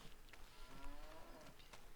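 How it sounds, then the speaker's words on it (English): A cow moos in the Farming Simulator video game, a long low call set in a busy background of game ambience and clicks, with no speech over it. "Moo to you too, cow."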